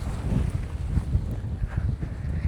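Strong wind buffets the microphone on an open river char of the Padma in Kushtia, among kash grass and broad fields, a loud, continuous low roar with gusty surges and no voices.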